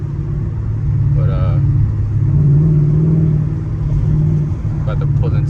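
A car idles and rolls slowly into a gas station, a low steady engine rumble throughout while someone talks over it.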